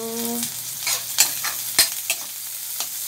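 Vegetables being sautéed in a hot pan, a steady sizzle broken by several sharp scrapes and stirs of a utensil, close and fairly quiet.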